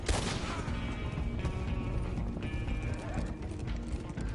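Horses' hooves clip-clop steadily in Red Dead Redemption 2, several horses moving along a road at pace under a dense, continuous game soundscape, with faint gunfire-like bursts in the mix.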